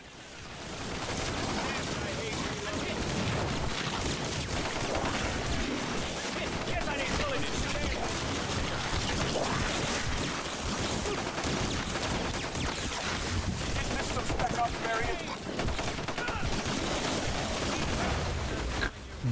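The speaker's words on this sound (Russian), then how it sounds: "Что постоянно взрывается?" Constant dense roar of explosions and gunfire fills a video game battle throughout, loud and unbroken, with a voice talking under the din.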